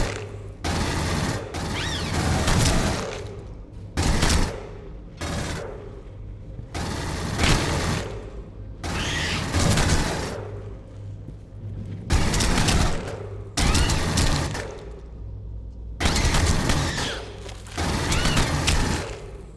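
Bursts of automatic gunfire in the Aliens: Colonial Marines video game, a series of loud, dense volleys a second or two long separated by short quieter gaps, close and sustained throughout.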